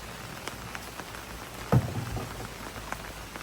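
Rain falling on a farm field in the Philippines, a steady patter of drops across the clip with one brief louder thump midway and no voices.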